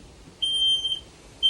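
During a test, a propane gas alarm gives a loud, shrill electronic beep lasting about half a second, close by, and a second beep starts right at the end.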